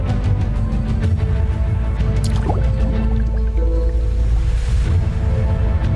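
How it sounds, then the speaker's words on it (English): A small stone drops into a still pool with a soft, single plop and a few light drips, heard over a steady, dense low background wash. "The monk picked up a small stone and gently dropped it into a still pool beside them."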